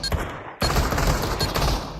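Loud gunfire from the VR shooter game Pavlov during a competitive matchmaking round: a quiet moment, then a sudden dense burst of rapid automatic shots and overlapping reports rolling on without pause.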